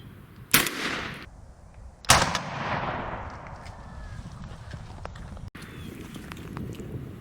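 Gunfire during a crow hunt, two sharp loud reports about a second and a half apart, each trailing into a long fading echo outdoors, with no talk.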